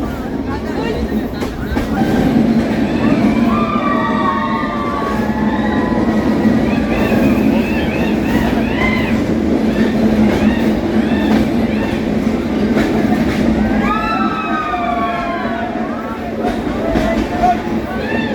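A passenger train on the Vizag to Araku hill line roars steadily through a tunnel, while passengers' shouts and whoops rise loudly over the rumble again and again.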